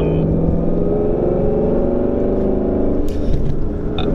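A 2016 Mustang GT fitted with a Corsa Extreme catback exhaust rumbles loudly in a tunnel, a deep steady exhaust drone with rising harmonic tones as it pulls, echoing continuously throughout.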